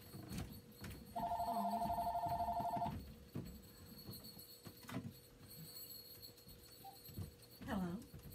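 An indoor telephone rings in one steady electronic burst of about two seconds, fairly close, with quiet room noise and a few faint knocks around it.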